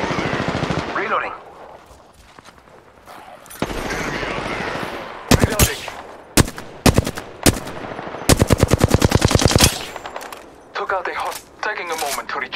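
Gunfire in the Apex Legends video game: bursts of rapid automatic fire and sharp single shots, loud and close, mixed with in-game action sounds and a voice calling out between volleys.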